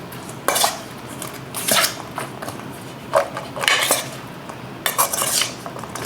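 A spoon clinks and scrapes against a bowl while beans are tossed with vinaigrette. The clattering comes in short bursts with brief pauses between them, close and fairly loud, with no speech.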